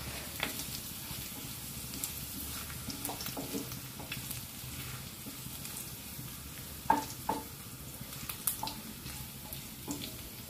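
Onions browning in a pan for lady finger curry give a faint, low sizzle with scattered spatula scrapes and clinks, quiet and close, with a few sharper knocks toward the end.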